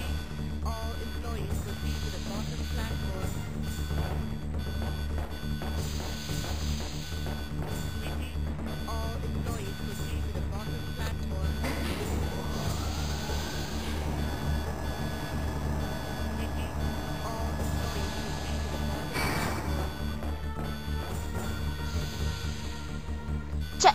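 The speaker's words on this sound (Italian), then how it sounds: "Lagga l'allarme." An alarm in the video game Resident Evil 2 sounds continuously as repeating electronic beeps over a dense, loud game soundscape with a low rumble, steady for the whole stretch.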